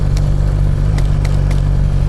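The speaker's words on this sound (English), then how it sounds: "this is just idling speed. I haven't touched because I have a 1000cc motorcycle" A 1000cc motorcycle ridden at idling speed gives a loud, steady low engine drone with a few faint clicks over constant wind rush, close to the microphone.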